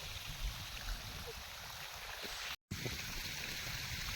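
Irrigation water flows steadily across a village farm field, a continuous close rushing and trickling wash that cuts out for a split second midway, with no voices.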